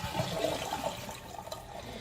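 A toilet flushing while its handle is held down to drain the tank: steady, loud rushing water that continues for the whole stretch without a pause and has no voices over it.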